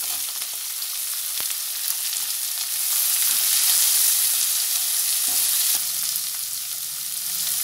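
Onions frying in hot oil with green chillies and curry leaves for onion chitranna make a loud, continuous, close sizzle that swells slightly midway, with no voices.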